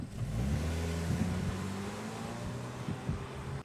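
A Subaru Crosstrek accelerates hard from a standstill in S mode, its engine note climbing steadily through rising revs, loud and close throughout with no talk.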